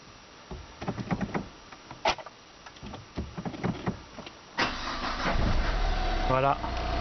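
A Renault Scenic 2 diesel engine cranks and catches after a fuel filter purge, settling into a steady close idle, with voices talking over the intermittent sounds just beforehand.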